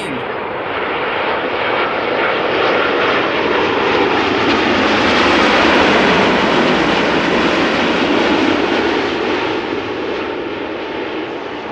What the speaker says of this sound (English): it is a Boeing 7879 Dreamliner. Arriving from Cartagena after a flight of 9 hours and 6 minutes right now.